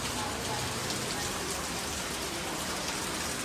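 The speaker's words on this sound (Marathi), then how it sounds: "आणि अजून पाऊस चालू आहे जोरात." Heavy rain falling outside a hotel, a steady dense hiss of downpour filling the whole stretch at moderate distance, continuous and unbroken with no talk.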